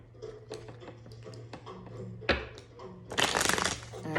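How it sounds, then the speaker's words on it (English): Tarot cards are shuffled by hand in a series of soft riffling, tapping bursts, close and fairly loud, with a longer, denser shuffle toward the end. "So now we're gonna shuffle the cards and get into this reading."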